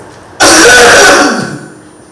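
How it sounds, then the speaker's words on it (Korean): One forceful human cough, loud and close, bursts out sharply and then fades over about a second and a half, with nothing else around it. "강하게 기침을 하시면 되는 것입니다"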